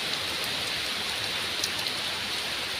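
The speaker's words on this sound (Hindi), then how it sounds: "आज वर्षा होती" Rain falls steadily in a village in Odisha, a dense, even hiss of drops with a few sharper patters, heard alone without talking.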